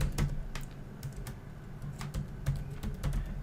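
A name being typed on a computer keyboard: a brisk, uneven run of close, crisp key clicks with small pauses between bursts, no voices.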